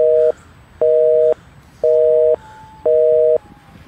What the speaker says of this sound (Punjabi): ਫੋਨ ਹੀ ਨਹੀਂ ਲੱਗ ਰਿਹਾ ਯਾਰ